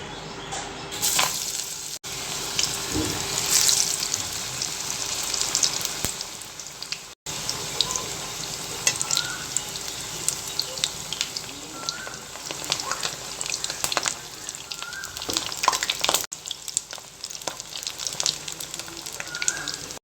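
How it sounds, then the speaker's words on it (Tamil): Small patties of lentil vada batter deep-fry in hot oil, crackling and bubbling continuously up close with scattered sharp pops throughout. "இப்போ இதை வந்து சின்ன சின்னதாக நம்ம தட்டி எண்ணெயில் பொறிச்சு எடுத்துடலாம்"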